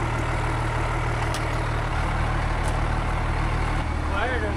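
A 12-valve diesel engine in a double-cab off-road wrecker truck runs steadily at idle, a loud continuous low rumble filling the whole stretch with no break.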